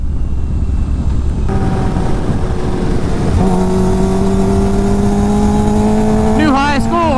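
A Kawasaki Ninja H2 motorcycle screams through a quarter-mile launch, its engine loud and close, climbing steadily in pitch through the gears with a brief shift dip midway and rapid warbling revs at the end.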